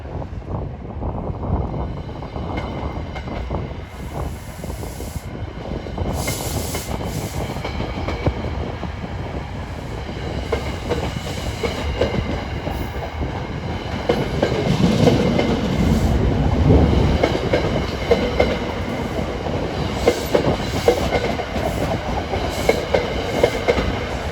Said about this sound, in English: And this is train 3853, departing off of track B for Trenton.